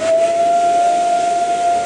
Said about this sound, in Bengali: কেমন অদ্ভুত সেই হর্নের ধ্বনি, ঠিক যেন শীষ দেওয়ার মতো এক তীক্ষ্ণ আওয়াজ